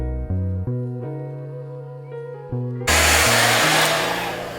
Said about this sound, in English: you just take it a little bit of cool air or warm air and blow dry it